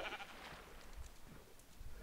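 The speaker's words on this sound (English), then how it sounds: "Don't disturb me while I punch my sheep" Sheep bleating in the Minecraft video game, a couple of short wavering bleats, moderately close and fairly faint, heard alone without talk.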